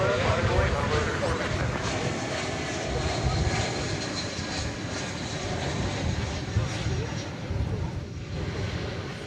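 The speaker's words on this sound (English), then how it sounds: "It's Flight 2903 arriving from Phoenix, an Airbus A320." A Spirit Airlines Airbus A320 arriving at DFW Airport from Phoenix makes a steady, broad jet engine roar that holds loud throughout, with a voice talking over it.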